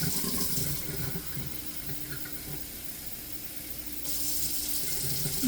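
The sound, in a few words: water poured into pot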